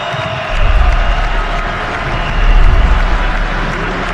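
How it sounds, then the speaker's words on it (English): Crowd at an NFL draft cheering, a dense roar of voices and applause swelling in two waves, loud and close. "Let them give him a cheer, baby."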